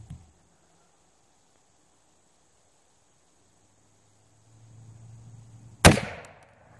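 A single sharp report from a cap and ball revolver cracks close by at an outdoor range, preceded by a low rumble and followed by a short ringing decay.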